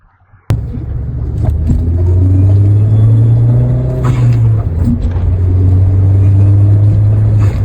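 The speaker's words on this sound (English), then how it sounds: "I'm going to try and show you how the air filter sounds" A Ford Fiesta ST180 with a budget air filter intake mod drives along, its engine kicking in sharply and settling into a loud, steady drone with a rising and falling intake roar close to the microphone.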